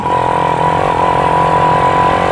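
A Yamaha MX King two-stroke motorcycle engine runs loudly and steadily up close on its first test ride, a continuous buzzing drone with a rough pulsing undertone.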